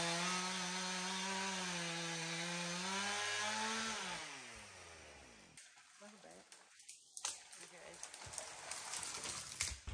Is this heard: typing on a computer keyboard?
no